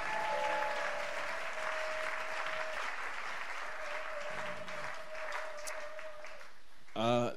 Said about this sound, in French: Est-ce que nous pouvons donner à ce Dieu une bonne offrande d'acclamation ce soir?